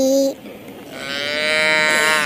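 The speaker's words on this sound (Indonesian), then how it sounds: "Ada sapi." A toy cow gives a loud, drawn-out electronic moo that swells and holds steady after a brief tone at the start, close and alone without speech.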